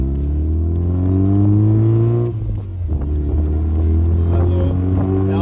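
Mazda MX-5 with a self-built exhaust revving hard while parked, a loud, steady low engine drone that dips briefly before rising again, heard close with no talking.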